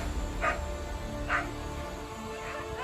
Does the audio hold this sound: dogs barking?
yes